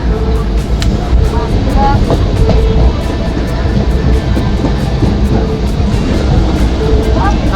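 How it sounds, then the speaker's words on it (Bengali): A train rumbles into Tribeni station, a loud, continuous roar with rhythmic clanks, while people talk nearby. "আর এই ট্রেন ঢুকেছে"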